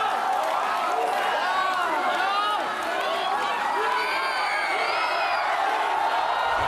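Dense crowd cheering and whooping at a Filipino rap battle, a loud steady wall of voices with rising shouts throughout, no single voice standing out.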